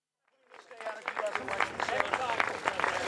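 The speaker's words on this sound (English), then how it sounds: "This conference ends with applause" Applause breaks out at the close of a press conference held by Trump and May, starting after a brief silence and swelling into dense, steady clapping from a crowd, with some murmuring voices mixed in.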